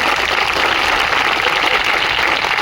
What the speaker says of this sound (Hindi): राज्यपाल साहब के लिए एक बार ताली बजा दो जोरदार